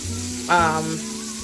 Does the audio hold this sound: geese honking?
no